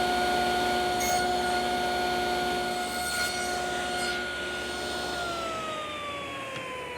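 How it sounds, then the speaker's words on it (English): A table saw runs with a steady whine, its blade raised to 3/8 inch to nibble away the edges of tenons for a nightstand. Faint cutting bursts come through as the tone dips slightly toward the end. "I'm going to nibble away the edge of all the tenons"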